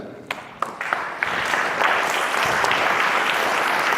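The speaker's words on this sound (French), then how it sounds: "est-ce qu'on peut de nouveau l'applaudir?" At a religious gathering, a congregation applauds Our Lady of Lourdes: a few scattered, distinct claps quickly swell into dense, sustained applause.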